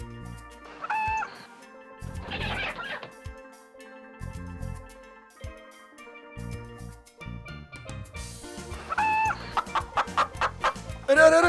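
In an animated Hindi folk tale, a hen clucks in several short, close bursts separated by gaps, over soft background music, with a flurry of quicker clucks near the end.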